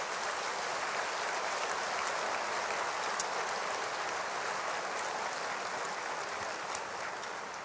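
Church audience applauding throughout, a dense and steady crackle of many hands clapping at once, loud and unbroken from start to finish with no voices standing out.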